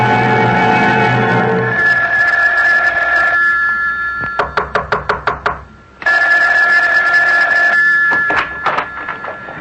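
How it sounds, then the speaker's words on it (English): A telephone bell rings in repeated bursts of rapid, sharp clangs separated by short gaps, loud and close, alone without any voices. "Isn't that your phone I hear ringing?"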